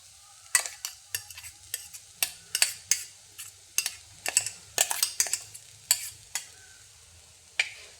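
Taro leaf thoran mixed with crushed paste is stirred in a pan, the spoon scraping and knocking the pan in irregular sharp strokes over a faint sizzle, close by with no speech.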